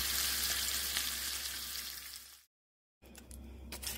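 Beef short ribs brown in a hot pan before braising in red wine, giving off a loud, dense, steady sizzle that drops out abruptly into silence before the frying noise returns.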